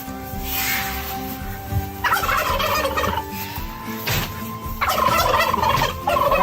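Farm fowl cluck and gobble in a chicken house, bursts of squawking calls coming and going over a steady background hum.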